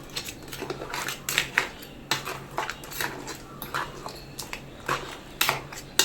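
A spoon scrapes and clinks against a metal pot of Kerala-style crab curry in irregular strokes, close and fairly loud, with no talking.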